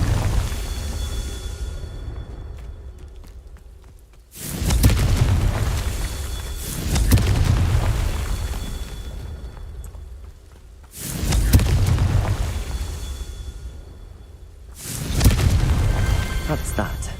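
Confringo spell blasts in Hogwarts Legacy hit as four heavy booming explosions spaced a few seconds apart, each a loud deep thump that trails off into a rumbling decay.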